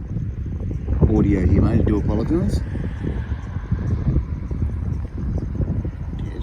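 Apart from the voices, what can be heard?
wind blowing into a mobile phone microphone outdoors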